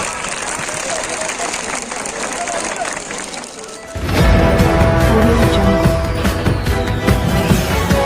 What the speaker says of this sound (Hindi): एक बार जोरदार तालियों से स्वागत।